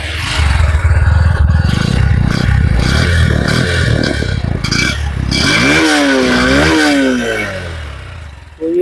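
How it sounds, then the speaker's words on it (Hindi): Honda CB200X motorcycle exhaust while riding on the road, a steady loud drone with rising and falling revs near the end, continuous and close. "ये था आपका होंडा का एग्जॉस्ट साउंड।"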